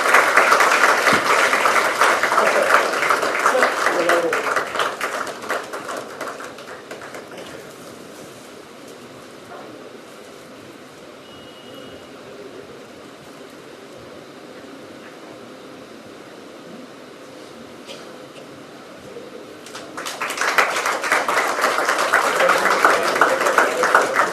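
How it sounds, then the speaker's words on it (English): Audience applause fills an auditorium at a school's golden inauguration ceremony, loud at the start, fading to quiet room noise in the middle, then swelling again into a strong burst of clapping near the end. "A huge round of applause for him."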